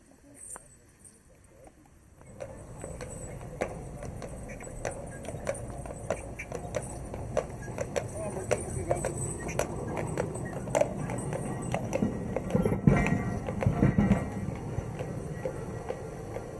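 Horse hooves clip-clopping as a horse pulls a tram car at a festival, a steady rhythmic clatter growing louder after a quiet start, with crowd noise and wheel rumble around it.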